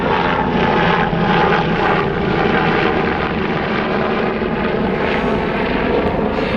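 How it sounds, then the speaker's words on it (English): A helicopter's steady rotor drone and engine roar hold loud and constant overhead, with no voices. "There's a helicopter going over."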